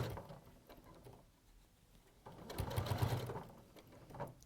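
A sewing machine stitches pieces of cushion fabric together, a faint mechanical whirr that comes and goes and grows louder for a burst near the end, close by in a quiet room.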